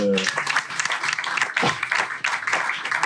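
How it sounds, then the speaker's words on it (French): A church congregation applauding to acclaim the Lord during a French-language Christian service, a sustained patter of clapping mixed with cheering voices that rises and falls over about three seconds. "Est-ce qu'on peut acclamer le Seigneur?"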